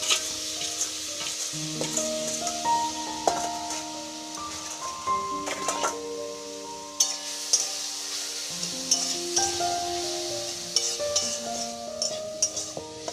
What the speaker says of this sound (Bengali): আমার শাকটা ভাজা হয়ে গেছে